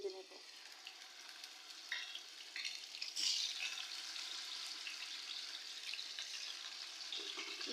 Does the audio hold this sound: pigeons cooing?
no